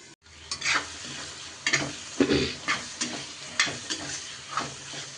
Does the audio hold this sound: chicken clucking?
no